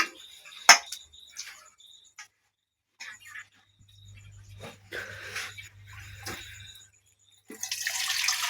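Tap water runs into a pot as rice is rinsed in a home kitchen during biryani preparation. The splashing comes in short bursts, then a louder gush at the end, with crickets chirping steadily in the background.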